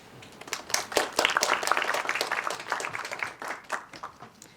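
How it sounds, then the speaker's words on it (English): Applause from an audience at a Bar Council talk, a burst of many hands clapping that swells and then tapers off, fairly close and without speech. "I'm going to take that as applause for me standing up."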